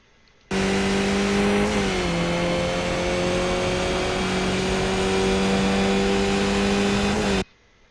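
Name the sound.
race car engine at full speed in iRacing video game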